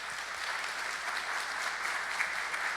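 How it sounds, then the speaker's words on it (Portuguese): Audience applause at a conference panel, fairly faint and steady, a brief even round of clapping. "Nossas palmas também para o Dr."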